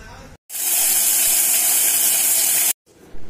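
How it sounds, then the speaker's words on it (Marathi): A kitchen mixer grinder whirring loudly and steadily as it grinds a handful of sago into flour, starting and stopping abruptly after a couple of seconds of continuous high-pitched roar. "आता हे मिक्सरला फिरवून घ्यायचे आपल्याला"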